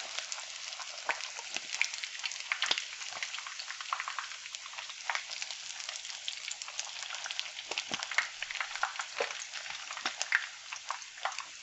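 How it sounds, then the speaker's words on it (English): A tilapia fillet frying in hot oil makes a steady, faint sizzle, with frequent sharp pops and crackles scattered throughout. "just be careful when you're frying, because this is just popping up"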